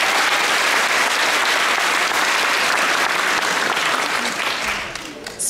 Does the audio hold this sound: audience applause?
yes